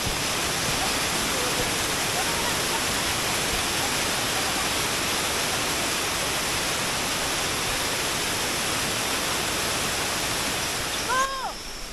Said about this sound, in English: The sound of the water is now getting louder